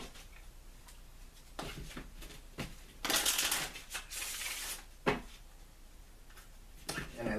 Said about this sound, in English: I'm going to take it and shuffle.